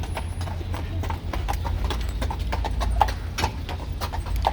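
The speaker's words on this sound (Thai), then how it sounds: "พวกเขาจะ ใช้รถม้าเป็นยานพาหนะ แทนรถนะคะ" Horse hooves clip-clop in a steady, even rhythm as a horse pulls an Amish buggy, close and clear throughout with faint outdoor background.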